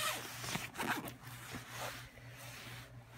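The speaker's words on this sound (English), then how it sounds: "I can zip it back up." A 15-inch laptop sleeve case with handles is zipped closed in a few quick, close zipper strokes. The rasping pulls are brief and fairly soft, and a steady low hum runs beneath them.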